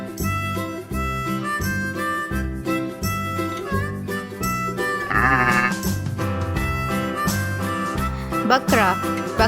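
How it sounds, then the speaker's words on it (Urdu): A goat's bleats ring out over loud background music. "بکرا بکرا یعنی گوٹ"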